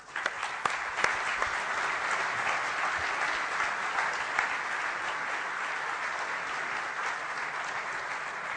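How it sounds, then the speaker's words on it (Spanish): An audience in a hall applauding a minister of economy, sustained dense clapping from many hands that starts with a few sharp claps, then holds steady and loud throughout. "un aplauso de todos nosotros"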